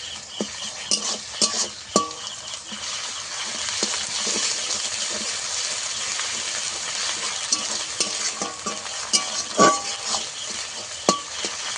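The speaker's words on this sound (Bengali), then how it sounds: "আদা রসুনও ভালো করে পেঁয়াজের সঙ্গে একটু কষাবো।" Ginger garlic paste fries with onions in a pan, giving a steady close sizzle broken by scattered clinks and scrapes of a spoon stirring against the metal.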